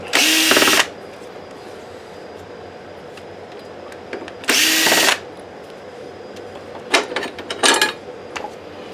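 A power drill whirs in two loud close bursts of under a second each, backing screws out of a Sanyo PDG-DHT100L DLP video projector during a teardown, followed by lighter clicks and metal clatter as parts are handled.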